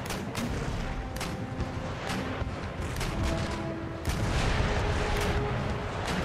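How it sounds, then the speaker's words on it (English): Naval cannon volley of chain shot in Empire Total War, a rolling series of deep booms and cracks layered over continuous battle noise, with a heavier burst of fire near the end. "it's going to save save her fire for the chain shot volley, again directly into her masts"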